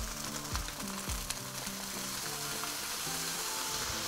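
Bean sprouts and fish sauce sizzling loudly in a hot pan, a steady close frying hiss with faint stirring knocks and a low background hum.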